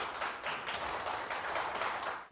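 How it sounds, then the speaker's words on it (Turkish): Steady, dense applause fills a ceremony hall at an Afyonkarahisar Chamber of Commerce and Industry event marking its green-building honour, a continuous even patter of many hands with no voices over it. "Evet, şu anda da alkışlar var."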